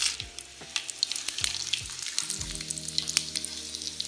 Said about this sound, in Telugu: 4 టేబుల్ స్పూన్ల ఆయిల్ వేసుకొని తాలింపు వేసుకుందాం